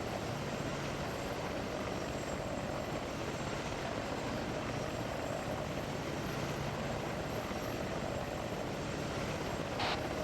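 A steady, loud aircraft engine drone holds unbroken throughout as an aircraft flies a long final approach to land in the video game ARMA 3, with no pauses or voices.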